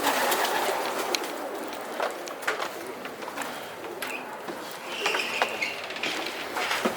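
Racing pigeons coo and rustle inside a roomy pigeon loft, a dense steady murmur of soft calls with clicks and flutters, and a person talks faintly underneath.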